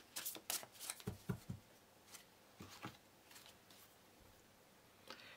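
Tarot cards being shuffled in quick crisp riffles and soft slaps, a dense burst of card flutter at the start followed by sparser single snaps and taps, close and fairly quiet with no talking.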